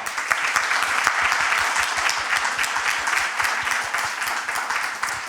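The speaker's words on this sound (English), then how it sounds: "could you give him an extra applause?" An audience at a project management conference applauds with loud, dense, continuous clapping that fills the room at a steady level.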